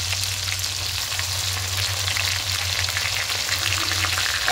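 Tomato sizzling in hot oil alongside a lightly browned hilsa fish head in a pan, a continuous steady frying hiss with faint stirring, close and alone without talk.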